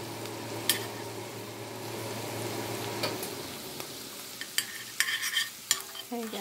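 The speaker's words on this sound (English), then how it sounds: "our seasoning blend is sauteing in butter, and I am using a cast iron skillet, the little small skillet, to saute this seasoning blend in" A seasoning blend sautéing in butter in a small cast iron skillet, steady close sizzle with stirring, fading quieter midway as sharper scrapes and clinks of a utensil against the pan punctuate the end.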